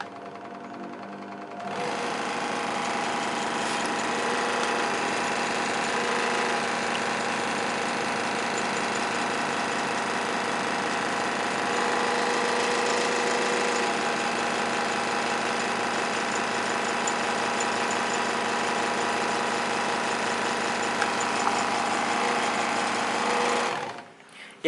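A Pazto 16-inch scroll saw runs at its top speed, its rapid reciprocating rattle and motor drone starting after a brief pause, staying loud and steady up close, then cutting off near the end.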